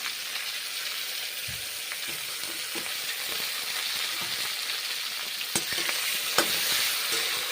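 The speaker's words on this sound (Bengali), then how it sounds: "ভেজে নিচ্ছি মাশরুম মাশরুম ঝিঙে এখন ভেজে নিচ্ছি এইভাবে" Mushrooms and ridge gourd frying in a pan give a quiet, continuous sizzle with occasional soft stirring scrapes and a couple of light knocks near the end, and no voices.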